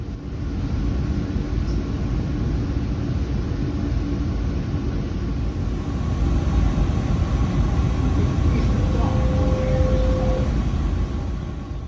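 A South Coast Rail commuter train runs toward Fall River in Massachusetts, giving a steady low rumble from on board that holds evenly throughout, with no one talking.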